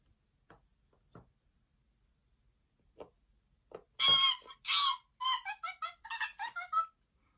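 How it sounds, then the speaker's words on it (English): A toy zoo animal sound puzzle plays a parrot call: a few faint taps, then a loud burst of squawking, chattering bird calls in quick repeated bursts. "Parrot,"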